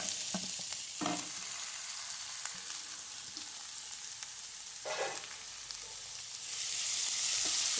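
Chopped onions and green chillies fry in a pan with a steady, hissing sizzle throughout, punctuated by a couple of soft stirring scrapes, the sizzle swelling louder toward the end.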